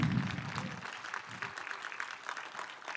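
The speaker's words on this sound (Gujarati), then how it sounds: "તો તમે એવી રીતે તાળીઓ પાડજો કે અમને એમ થાય કે સામે 1000 લોકો બેઠા છે" Audience applause at a money mindset talk by a life coach, a moderate crowd clapping in a steady, fairly faint patter that lasts throughout.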